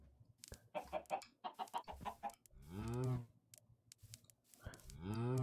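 Chickens in the Minecraft video game cluck in short, repeated bursts, broken by a couple of longer drawn-out tones and faint clicking steps.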